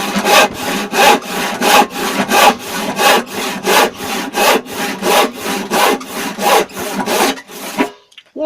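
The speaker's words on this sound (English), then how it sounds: "one incredibly sharp saw now, because that just went through that wood" A freshly sharpened rip saw cuts through wood in a steady run of about fourteen loud, rhythmic strokes, each a bright rasping push, ending with the saw breaking through and a few faint clatters.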